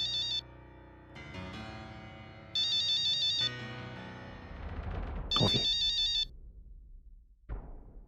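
A mobile phone ringtone plays three separate bursts of a bright repeating electronic melody, with low dramatic music and rumbling effects in the gaps between them.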